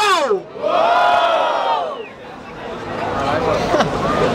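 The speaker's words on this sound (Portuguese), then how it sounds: "barulho pras rimas do Lisboa" A crowd at a Brazilian street rap battle yelling and cheering loudly for an MC, rising whoops and cries that swell, dip, then build again, dense and close.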